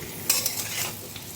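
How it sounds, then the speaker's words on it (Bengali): Potatoes and papaya frying in a pan over a high gas flame, a steady low sizzle broken by a few quick scraping stirs of a utensil against the pan, fairly quiet and close, with no talk. "গ্যাসের ফ্লেমটা বাড়িয়ে দিয়ে ভালো করে লাল লাল করে ভেজে নিতে"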